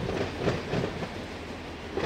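A train rolling in within the Run8 train simulator on the Sanford Subdivision, giving a steady rumbling roll with soft rhythmic clatter pulses at moderate level and no voices.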